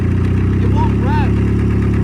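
A Nissan engine with small gravel in it labors at a steady, loud, rough drone that won't rise in pitch, heard close with a brief squeal over it.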